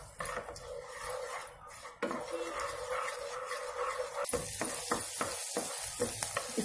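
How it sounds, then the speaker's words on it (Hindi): Ginger garlic paste being sautéed in a pan for a restaurant-style paneer makhani, a continuous close sizzle with scraping stirring strokes, the sizzling turning brighter and more crackly partway through, with no talking. "अब इसमें मिक्स करेंगे हम जिंजर गार्लिक पेस्ट, सिर्फ थोड़ी देर सौटे करेंगे।"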